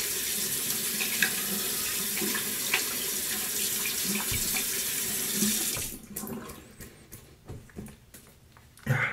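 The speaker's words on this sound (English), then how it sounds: "Wash my hands off." Tap water runs steadily into a sink as hands are washed, a close broadband rush for about six seconds, then stopping and leaving a few scattered splashes and drips.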